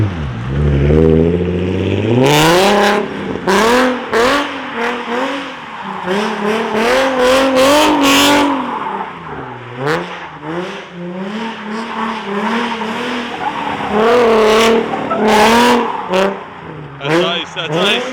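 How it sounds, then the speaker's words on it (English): A loud car engine revs hard through snow donuts, its pitch sweeping up and down with bursts of tire noise, and voices talk over it throughout. "Yeah, I want to do a donut."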